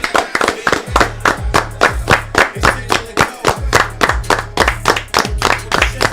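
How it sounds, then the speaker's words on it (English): A group claps in unison, counting 34 claps as a birthday tribute, a loud, fast, steady run of sharp hand claps close by with a low hum underneath. "34 claps for Lloyd Courtney."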